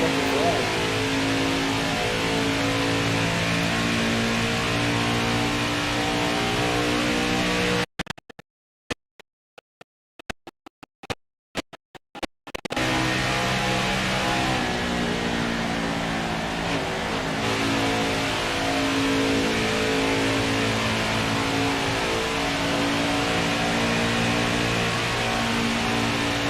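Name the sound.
NASCAR race car engine revving, from video game NASCAR Heat 5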